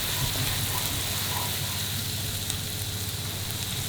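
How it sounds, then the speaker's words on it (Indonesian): Garlic sautéing in a hot pan gives a steady, close hiss and sizzle that holds evenly throughout with no voices. "Tuh, tumis bawang putihnya. Tumis sampai wangi ya, Mi."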